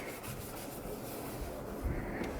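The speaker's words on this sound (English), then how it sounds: "Clean the edges with a rag just to make sure there's absolutely no last grease on there." A rag wipes leftover grease from the edges of a Lawn-Boy Dura-Force small engine part, giving a soft, continuous rubbing swish up close with a few light knocks.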